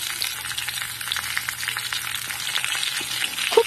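Drumsticks and mixed vegetables frying in oil for Bengali shukto, a dense continuous crackling sizzle with a few faint stirring scrapes, close and steady, with no speech.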